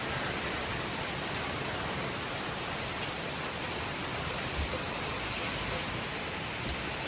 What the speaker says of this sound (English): That torrential downpour came out of nowhere.